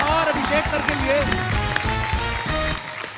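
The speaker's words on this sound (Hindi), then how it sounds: "जोरदार तालियां एक बार अजय सर और अभिषेक सर के लिए।" Studio audience applause on The Kapil Sharma Show greets guests, mixed under loud music with a sung or spoken voice over it.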